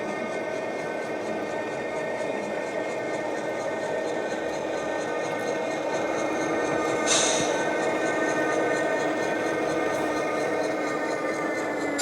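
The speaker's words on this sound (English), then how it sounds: "check out the sound of these dynamic brakes on Brian Elchlup's diesels" HO scale model GP38-2 and GP9 diesel locomotives with Tsunami sound decoders play a continuous dynamic brake roar, a steady loud whine with layered tones, plus a brief hiss midway, with no talk.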